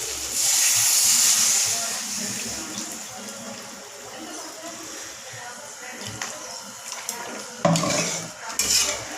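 Water poured into frying masala in a pan for prawn malai curry, then stirred, a bright watery hiss and splash followed by clinks and scraping of a utensil against the pot, close and moderately loud.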